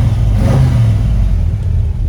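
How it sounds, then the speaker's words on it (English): Restored Chevy Nova SS with a 327 V8 and three-speed automatic, its engine revving in a steady loud rumble with a slight swell, close by and alone. "And this engine runs."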